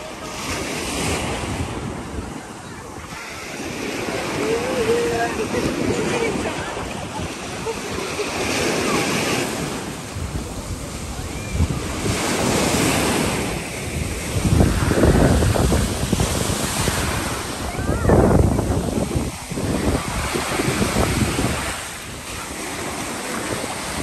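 Waves and wind at Stavros municipal beach in Greece: steady surf rolling in with gusty wind buffeting the microphone, swelling louder around the middle and staying continuous throughout, with no clear voices.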